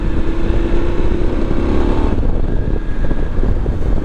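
Voge 900 DSX motorcycle with a 95-horsepower inline twin, a loud continuous engine drone mixed with wind rush while riding, with the pitch shifting partway through.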